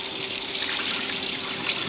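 Uncooked rice is swirled and rinsed by hand in water, giving a steady, close, sloshing wash of liquid with no pauses.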